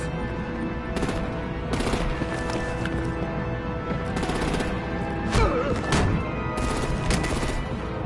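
Artillery gunfire in the Batman: The Enemy Within video game, sharp bursts of shots cracking out repeatedly over a busy, continuous battle background, some close and loud, others clustered in rapid volleys.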